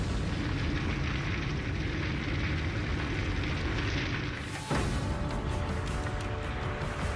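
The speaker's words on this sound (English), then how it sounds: "Now imagine more than a dozen of these explosions going off all over the city." Nuclear warhead explosions going off over a city, heard as a dense, continuous roaring rumble with a brief dip and a sharp burst near the end, loud and sustained without voices.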